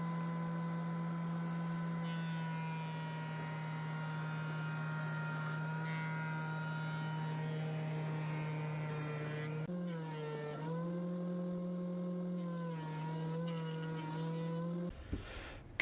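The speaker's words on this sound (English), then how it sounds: "we're going to run them all through the planer now to get the final thickness" A thickness planer runs while wood boards for farm-style tables are fed through to final thickness: a loud, steady motor drone that drops in pitch as a board loads the cutter, then cuts off near the end.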